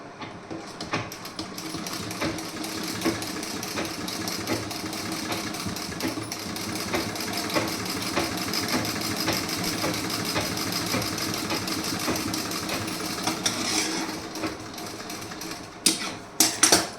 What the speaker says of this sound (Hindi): यहाँ पे आपको ऐसे सिलाई लगानी है।